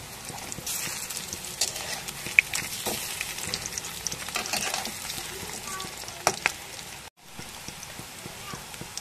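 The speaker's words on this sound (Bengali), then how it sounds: "এক সাইডটা হয়ে গেছে, এবার উপর সাইডটা ভাজার জন্য উল্টে দেব।" Fish roe pakoras fry in a pan with a steady, dense crackle and spatter that holds close and even, broken by a brief near-silent gap toward the end before the sizzle resumes.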